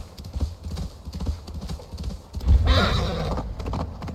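Horse in the video game Assassin's Creed Valhalla whinnies loudly over a steady clip-clop of hooves, the neigh arriving partway through the rhythmic hoofbeats.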